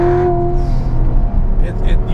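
Supercharged 600 HP Magnuson V8 in a C7 Corvette Z51 on a race track, engine droning and rising in pitch as it accelerates, with a voice talking over it close by.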